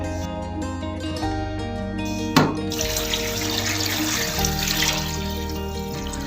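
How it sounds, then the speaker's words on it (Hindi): Water runs from a tap into a cooking pot holding chicken pieces and bones for chicken corn soup, a steady close pour with a brief clunk partway through and no talk. "अब इसके साथ ही जाएगा पानी।"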